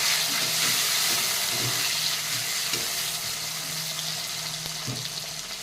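Chopped tomato frying in a pan of oil, giving a strong, dense, steady sizzle with light stirring taps, close and continuous for the whole stretch.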